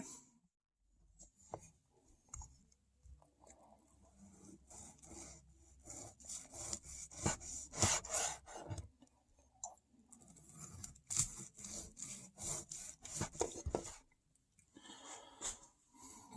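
A knife saws through a smoked goose breast on a board, producing repeated close rubbing and scraping strokes in an uneven rhythm with brief pauses, with no voices.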